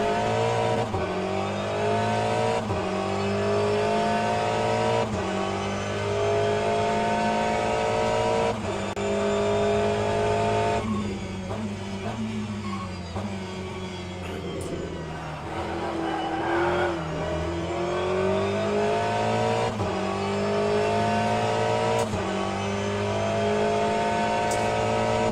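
A Porsche race car engine in the Le Mans Ultimate racing game drones steadily and loudly, revving up and down through gear changes as the car runs close by, with no talk.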